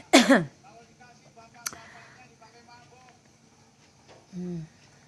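A sharp cough bursts out at the start, followed by a brief throat noise, then a quiet stretch and a short voiced sound near the end.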